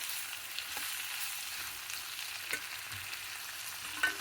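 Ingredients for a mint leaf dal and beetroot stir-fry sizzle quietly in a pan, a steady soft hiss with occasional faint scrapes and clicks from stirring, no voices.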